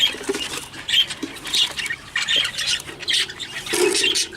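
Young chicks squawk and peep inside a box, sharp bursts repeating every half second or so over faint scratching and fluttering, close and loud with no talk.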